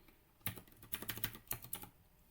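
Keys clatter on a computer keyboard in quick, irregular bursts of typing, close and fairly crisp with brief pauses, in a quiet room with no talking.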